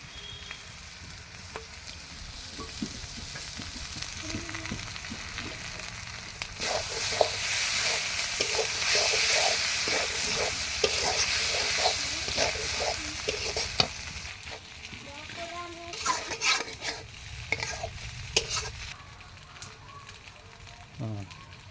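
Singi fish roe fries and sizzles steadily in a pan while a spatula scrapes and stirs through it in repeated strokes, with a voice talking intermittently over the cooking.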